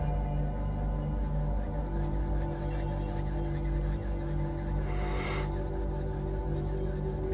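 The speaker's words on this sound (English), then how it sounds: "Maybe bring your hands out in front of you, rub them together gently, gently." Palms rubbed gently together in front of the body, a steady soft continuous rasp that holds for several seconds, quiet and alone with no talking.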